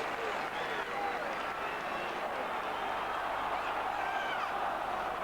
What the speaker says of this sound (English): Crowd urging him to get the ball forward as quickly as possible